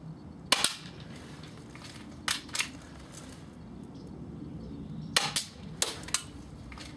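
A CYMA P.668A airsoft pistol fires a series of sharp, close snapping shots, a couple of single shots and then a quicker cluster of about six, over faint background noise.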